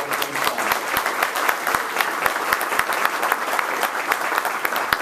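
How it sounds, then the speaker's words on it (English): An audience at a Dean's List breakfast gives a sustained round of applause for student athletes, steady dense clapping with sharp individual claps standing out, fairly close and loud throughout. "I want a round of applause for all of our student athletes."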